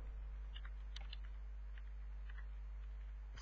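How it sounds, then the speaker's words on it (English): Light keystrokes on a computer keyboard tap out a short word, quiet scattered clicks over a steady low electrical hum, with no speech. "Here I'm just typing"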